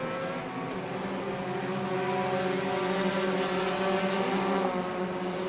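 Enduro race cars roar around Irwindale Speedway in a dense, continuous wash of engine noise, loud and sustained as several cars pass together.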